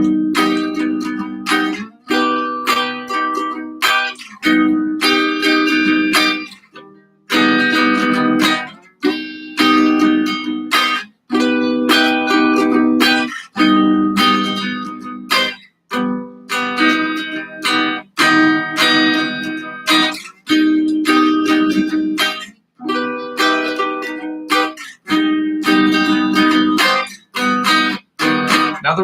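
An electric guitar strums a sequence of inside chords in steady rhythmic bursts, with short gaps between chord changes, close and loud and without speech.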